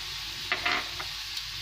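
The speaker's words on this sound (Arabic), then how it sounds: "نخليو الان كل يتقلى يعني مليح حتى نشوفوا ديك الجريوات طابت" Small fish frying in a pan with salt, black pepper and garlic powder, heard as a faint, continuous sizzle with a few brief stirring scrapes.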